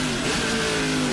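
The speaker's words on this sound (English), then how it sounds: "Absolutely through the gearbox he goes." A Speedcar Series race car at Bahrain revs hard through its traditional H-pattern gearbox, a loud, close engine whine holding and shifting pitch briefly with no talk.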